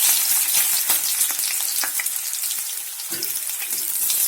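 Vegetables including sweet potato and papaya fry for Bengali shukto, giving a close, steady sizzle full of sharp crackles and pops, with no talking.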